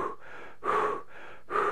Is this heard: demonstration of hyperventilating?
yes